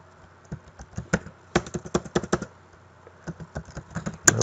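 Keys clacking on a computer keyboard during a virtual science lab, with bursts of quick taps separated by short pauses, close and fairly clear.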